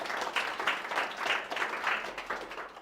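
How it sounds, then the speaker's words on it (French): An audience at a Web Mardi talk applauds, a burst of many hands clapping in rapid, uneven waves, moderately loud in a room. "Je crois qu'on peut aussi les applaudir"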